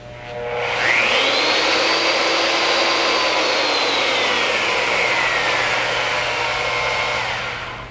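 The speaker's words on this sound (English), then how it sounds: "Press the trigger switch for a second time and hold to return to the 0 degree starting position." An AGP DB32 tube bending machine whirs as it rotates back to its zero-degree starting position, a loud, continuous motor drone with a gliding whine that rises, holds and slowly falls off.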